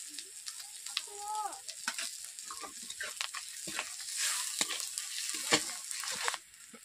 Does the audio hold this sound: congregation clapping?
no